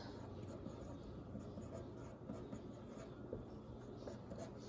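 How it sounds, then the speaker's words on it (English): Pen or pencil writing a whole note on paper, a faint continuous scratching and rubbing close by over a steady low background hum. "So I'm going to write down whole note."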